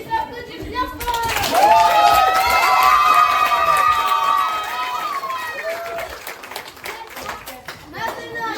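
Audience at a school talent show breaks into loud applause and cheering, a dense burst of clapping with shouts and whoops that swells, then fades to scattered claps and chatter.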